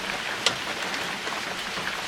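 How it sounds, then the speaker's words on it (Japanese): A sudden rain shower falls outdoors during an air-conditioner compressor replacement on a Subaru Sambar TV1, a steady close hiss of drops on surfaces with one brief sharp tap. "肌寒くはあったが、先ほどまで天気だったところの突然の雨。"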